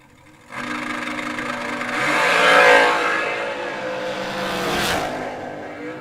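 Drag racing cars launch and roar down the lanes, a loud engine surge that swells to a peak and holds with a rasping, fluctuating drone, heard from the track side.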